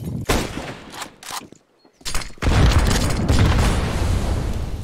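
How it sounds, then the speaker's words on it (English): Grenade blasts in a Counter-Strike match on the Inferno map, with heavy booming explosions bursting in, a brief near-silent gap, then a sustained loud rumbling roar. "Big nades on banana."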